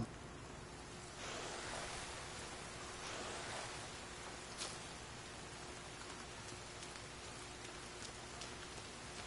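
Steady rain pours in The Forest survival game, a dense, even hiss that swells and stays loud throughout, with a faint brief tap partway through.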